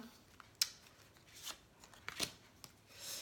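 A small card is drawn from a deck and handled during a tarot-style reading: a few quiet, crisp flicks and slides with gaps between them, close and soft, with no voice.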